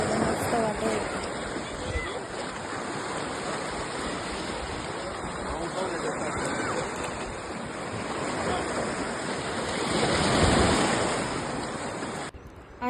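Sea waves at a secluded beach in Goa, a continuous close wash of surf with wind buffeting the microphone and a swell of breaking water near the end.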